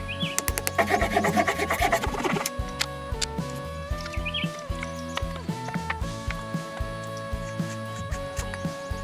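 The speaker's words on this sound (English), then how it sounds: "he cuts along this line, forming a perfectly rounded door that fits the curved entrance of the shelter" A handsaw cuts through a rounded wooden door panel for a hillside shelter. Rapid, vigorous strokes in the opening seconds give way to a steadier, slower rhythm of rasping strokes, close and fairly quiet with no talk.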